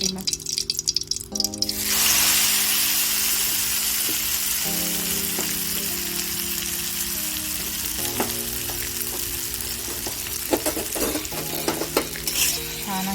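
Green chickpea leaves are stir-fried in hot oil, loud crackling sizzle bursting as they hit the pan, then a continuous fry with stirring clinks and scrapes against the pan, while a steady hum runs underneath.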